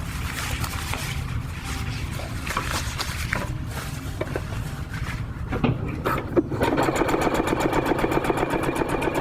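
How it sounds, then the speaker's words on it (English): A sewing machine stitches a flap on a lightweight backpacking tarp with close, fast mechanical chatter that grows more rapid and regular toward the end. "now we want to sew this flap"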